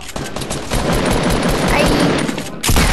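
Rapid gunfire rattles in the video game Fortnite, loud and dense bursts that run almost without a break, cut by a brief pause near the end before a fresh heavy burst, with no talking.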